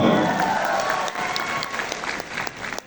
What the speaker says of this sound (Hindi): आपकी जोरदार तालियों के साथ बुलाना चाहूंगा हमारे next leader mister Rajkumar Gupta.